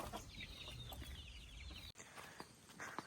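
Chickens cluck close by in a busy yard, their calls repeating over steady background rustle and a few sharp knocks, with no talking.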